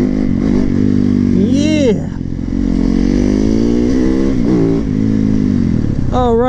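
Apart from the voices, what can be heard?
Yamaha MT motorcycle riding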